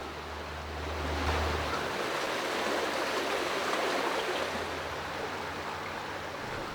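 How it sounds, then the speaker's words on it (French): The Falkenstein stream rushing over rocks in early morning, a steady broadband watery roar that swells slightly and holds, with a low hum in the opening seconds and no talk. "Au fil de l'eau, au petit matin, le long du ruisseau du Falkenstein"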